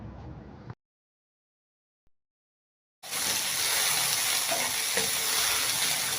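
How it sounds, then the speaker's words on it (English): Coconut flakes toast in a pan on the stove, a brief sizzle cutting to silence before a loud, steady close-up frying hiss with faint scraping stirs underneath. "And I'll keep stirring it every few minutes so that it doesn't get burnt on one side."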